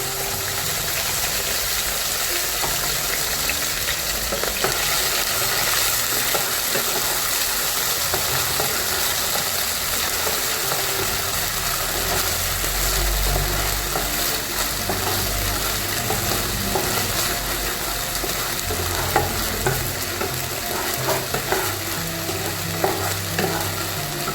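Ginger paste sizzles and fries steadily in a pan with asafoetida, a continuous close crackling hiss with occasional stirring scrapes, no voices throughout.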